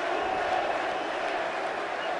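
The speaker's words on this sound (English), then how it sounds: "you can hear the chants of Bute as the fight gets underway" A hometown boxing crowd roars for Lucian Bute as his fight with Jean Paul Mendy begins, a dense, steady wall of voices from a large arena throughout.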